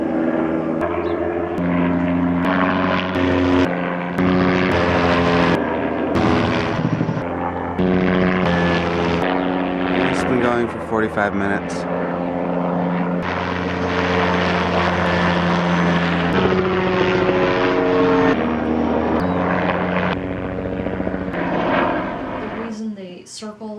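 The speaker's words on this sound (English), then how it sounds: "What is this, police helicopter?" A police helicopter drones overhead with a steady, throbbing rotor and engine hum that lasts throughout, while a person talks briefly beneath it.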